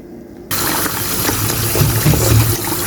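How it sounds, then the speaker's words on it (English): Meat is rinsed under a running tap; after half a second of quiet the water gushes on abruptly and pours steadily and loudly to the end. "So I'm rinsing off my meat"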